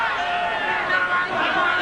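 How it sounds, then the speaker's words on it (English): At a 1989 rugby league match between the Rabbitohs and the Sharks, a large stadium crowd roars and screams at the referee. The dense, sustained din sits under close commentary. "A crowd is screaming for referee Harrigan to get South back 5, and with good reason."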